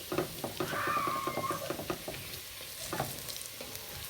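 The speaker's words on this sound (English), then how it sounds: "just gonna stir this around and try to scrub some of this burnt stuff off the bottom" Bacon frying in a pan while a utensil stirs and scrapes burnt, toasty bits off the bottom, steady sizzle under irregular close scraping strokes.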